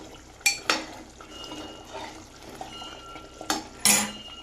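Shahi paneer gravy made with fresh cream cooks slowly in a pan until the oil separates, with soft simmering under a few sharp clinks and scrapes of a spoon against the metal.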